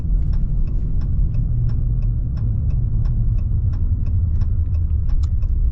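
A lifted 2024 Ram Mega Cab pickup on mud-terrain tires driving on a road: loud, steady engine and road rumble with a faint regular ticking over the top, no voices.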